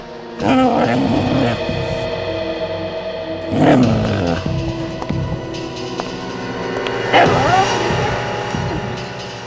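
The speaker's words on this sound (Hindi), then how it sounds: "ये कुत्ता रो रहा है।" A dog cries in a crime-drama scene, giving three wavering, whining bursts about three seconds apart over a steady background hum.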